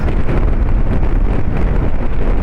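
Loud, steady wind buffets the microphone with a low roaring rumble, constant throughout, recorded while riding a motorcycle on a road in Bicol, Albay, Philippines.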